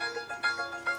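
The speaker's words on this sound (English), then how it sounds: "Ah, that's my phone." A mobile phone ringtone chimes in a quick melodic pattern of repeated electronic notes, close and clear for about a second with no voices.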